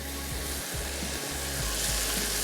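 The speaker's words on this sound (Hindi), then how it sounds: "ये सारे अज्जा गैस के अंदर इसको भूनेंगे थोड़ा सा" Garam masala powder and salt frying in a pan over a gas flame, giving a steady close sizzle with faint stirring scrapes and no talking.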